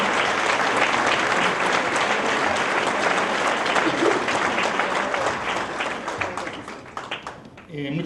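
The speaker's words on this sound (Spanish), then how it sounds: "Muchas gracias por su aplauso." Sustained audience applause after a Spanish-language lecture on the Peninsular War, dense and steady clapping from a large room that thins out in the last second, with a voice over it.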